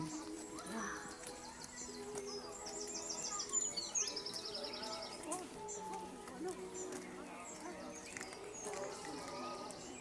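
Small birds chirp and tweet at Jesus The King of Mercy Shrine in Ghosta. The calls are faint and scattered, with some cooing mixed in, and people talk nearby throughout.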